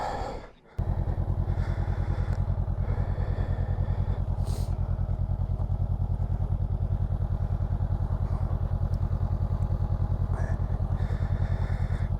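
A motorcycle or big truck engine runs steadily on a mountain road at Washington Pass, a continuous loud low rumble with a pulsing beat held close and constant throughout, with no talk.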